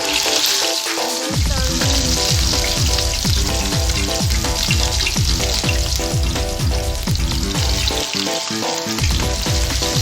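Steamed chicken roast frying in hot oil, a loud, steady, close sizzle and crackle that never lets up, with faint stirring and no voices.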